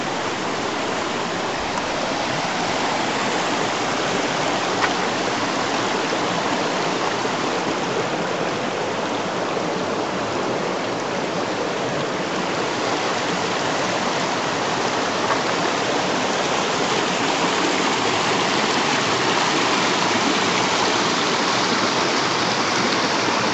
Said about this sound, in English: I'm at Shirt Tail Creek, which runs into the American River down below the bridge